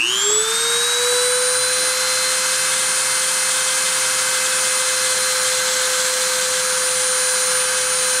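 A machine spindle winds up to 30,000 RPM for a deposition run, its whine rising in pitch over the first half second and then holding as a loud, steady, high tone.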